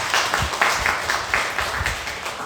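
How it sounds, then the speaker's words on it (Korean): A church congregation applauds during a Korean worship service's announcements, giving a short burst of steady, moderately loud clapping that fills the room. "박수로 감사합니다"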